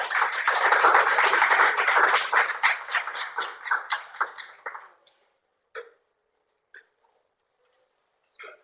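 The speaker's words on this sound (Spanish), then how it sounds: "Pido un fuerte aplauso al doctor para que esté aquí con nosotros ya." Seminar audience applauding a doctor as he comes on, a brisk burst of clapping that thins out over about five seconds into a few scattered late claps.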